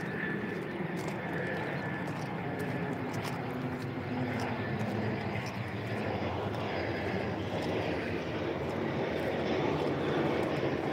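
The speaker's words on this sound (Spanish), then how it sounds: "Los aviones." Airplane engine noise from aircraft passing near an airport, a steady loud broad roar sustained throughout, with faint background clatter and no speech.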